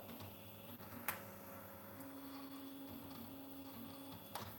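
A 3D printer running quietly, with steady motor whine and shifting stepper tones, plus a couple of sharp ticks, faint and continuous with no talking.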